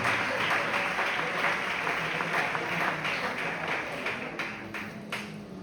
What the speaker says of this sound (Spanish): ¿Le podemos dar un fuerte aplauso a su palabra?